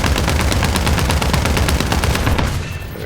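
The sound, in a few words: aircraft gunfire in War Thunder video game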